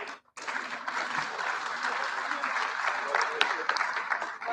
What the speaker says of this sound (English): a good round of applause to our group